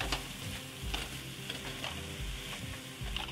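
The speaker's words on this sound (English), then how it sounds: "And then you just sort of cook and stir that for a couple of minutes until it's almost cooked through." Ground turkey cooking in an oiled pan, a steady sizzle broken by regular scraping stirs of a utensil against the pan, close and fairly quiet with no talk.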